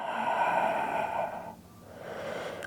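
A long, steady exhale during a prenatal yoga breathing exercise, breathy and close, fading into a quieter pause before a softer second breath begins.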